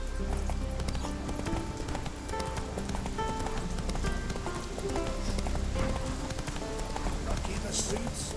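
Galloping hooves of Roach, a horse in the video game The Witcher 3, clip-clopping steadily and close, overlaid by music and an occasional rider's voice.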